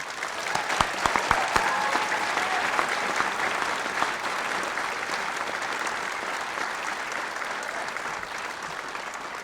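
A college commencement audience applauds, with sustained, evenly dense clapping from a large crowd, a few sharp near claps standing out early on, then steady applause throughout.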